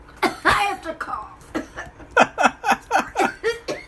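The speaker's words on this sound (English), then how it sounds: "I have to cough." A man close to the mic coughs in a rapid fit of short, harsh bursts, roughly a dozen in quick succession with a brief break partway through.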